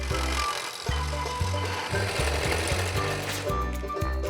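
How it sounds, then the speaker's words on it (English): A drill bores holes into a drum shell, giving a loud, close, continuous motor whine with a steady buzzing grind and brief dips as the bit bites in and out. "we have to drill some holes"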